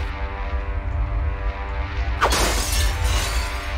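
Glass shatters in System Shock 2, a sudden crisp crash with a bright, spreading tail over a steady low hum.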